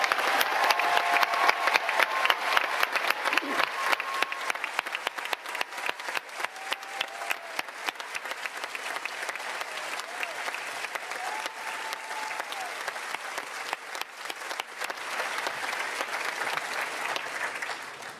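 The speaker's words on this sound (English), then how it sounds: "Please join me in giving these outstanding students a round of applause." An audience applauds at a Noble and Greenough School graduation ceremony, with dense, sustained clapping from a large crowd that holds steady for about eighteen seconds and eases slightly toward the end.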